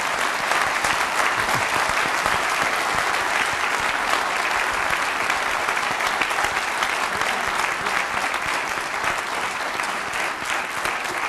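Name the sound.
audience applause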